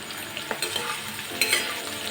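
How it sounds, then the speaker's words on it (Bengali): Sliced onions and capsicum fry in a pan, with a steady close sizzle and a few louder spatula scrapes and stirs partway through; no one speaks. "আর পেঁয়াজ ভাজতে ভাজতে এর মধ্যে দিয়ে দিচ্ছি কেটে রাখা ক্যাপসিকাম।"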